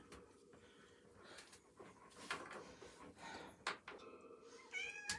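A cat meows several times in short, high calls at a moderate distance, with quiet background noise between them.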